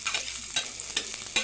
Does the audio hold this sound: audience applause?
no